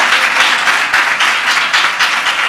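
A church congregation claps steadily together in praise, a close, loud and even rhythm of many hands with no voices heard.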